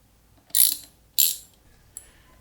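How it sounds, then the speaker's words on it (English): Two sharp, bright ratcheting bursts followed by a faint click as a wrench loosens the license plate bolts on a Yamaha FJR1300 motorcycle, close and loud, with no talking. "Loosen the plate bolts."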